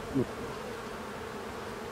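Honeybees hum steadily at an open hive during a spring inspection, a soft continuous buzz close by with one brief louder flyby early on.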